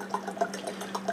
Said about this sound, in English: So we're going to pour